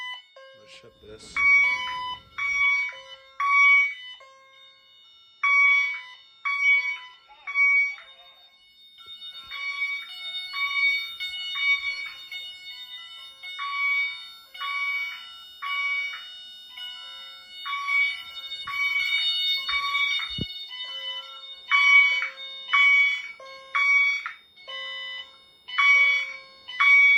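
A loud, shrill smoke alarm beeps over and over in short clustered bursts, piercing and close, with brief gaps between groups.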